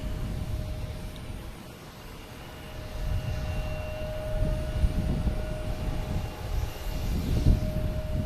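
An ITA airliner lines up at Boston Logan Airport, its engines giving a continuous low rumble with a steady high whine, building slightly louder toward the end, and no voices.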